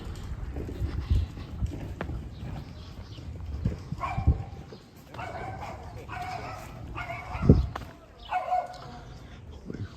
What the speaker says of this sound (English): Quite an unhappy dog there, barking away.